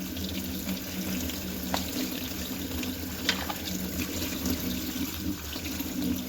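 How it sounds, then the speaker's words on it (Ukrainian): Cold tap water streams steadily from a kitchen faucet over eggplants in a colander, a continuous close splashing hiss with occasional soft knocks as the vegetables are rinsed. "відкриваю кран і отак от під холодною проточною водою їх промиваємо оці баклажанчики гарненько"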